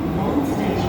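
A Sydney Tangara train at an underground platform, its steady roar and rail rumble filling the short stretch, loud and close, with no clear speech.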